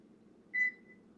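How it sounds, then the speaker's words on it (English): A house alarm sounds a single short electronic battery-warning beep, clear and fairly loud over a low steady background hum, with no talking. "that's my fucking the battery alarm, the house alarm"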